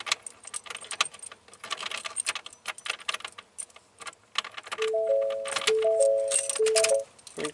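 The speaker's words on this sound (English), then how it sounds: "Put my key in the ignition." Keys jangle and rattle as a key slides into the ignition of a 2019 Ford F150, a close metallic clinking that runs in bursts and swells toward the end, with no talking.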